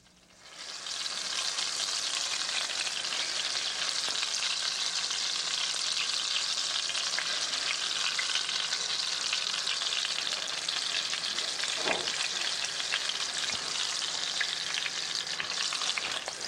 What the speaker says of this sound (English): The lamb is seared in a combination of hot oil and butter.